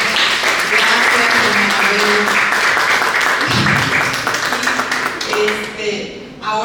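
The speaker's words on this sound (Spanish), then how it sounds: "Vamos a darle un aplauso" A crowd at a Spanish-language church women's gathering breaks into applause, dense clapping filling the room for several seconds before thinning out, with a voice talking over it toward the end.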